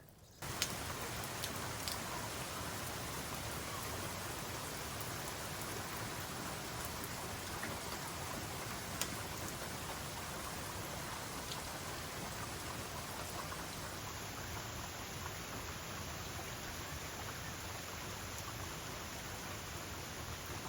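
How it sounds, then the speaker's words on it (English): Steady rain during a rainstorm over an outdoor stump-burning fire ring, a soft, even hiss of falling drops with a few faint clicks, continuous and fairly quiet with no voices. "It's been raining"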